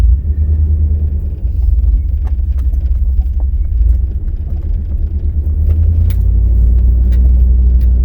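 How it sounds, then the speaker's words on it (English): Four-wheel drive vehicle grinding up a steep incline, a loud, continuous low rumble of engine and tires with scattered knocks and rattles from the rough ground, close and steady throughout. "that's an incline like I haven't taken this vehicle up before. It's a very good thing I got a four-wheel drive."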